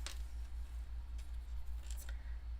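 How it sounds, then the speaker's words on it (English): Scissors trimming paper for a stamped card, a few crisp snips close by over a faint low hum, with no talking. "I'm just gonna trim that off so I'm not bothered by that"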